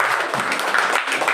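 An audience claps in a short, dense burst of applause at a small community program. The sound is loud and even throughout, with no voices standing out.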